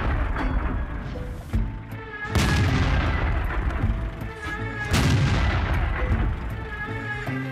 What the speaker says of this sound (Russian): производит филигранный по точности выстрел